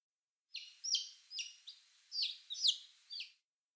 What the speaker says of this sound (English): It is a chick.